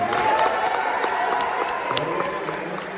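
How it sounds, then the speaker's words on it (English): Comedy club crowd in Frederick applauding and cheering loudly, a thick continuous roar of clapping with scattered whoops that eases slightly toward the end. "By a round of applause, how many Frederick locals do we have here tonight?"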